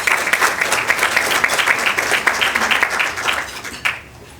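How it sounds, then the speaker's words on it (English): A crowd applauds steadily for several seconds at a luncheon, dense clapping that fades out abruptly near the end. "So let's all give them a round of applause"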